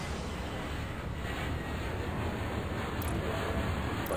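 A jet aircraft takes off in the airport control game Airport Madness, a steady broad engine roar that builds slightly with no talk over it.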